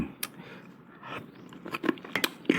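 Close, crisp crunching bites of deep-fried fish cartilage, several irregular crunches growing louder toward the end, with no talk over them.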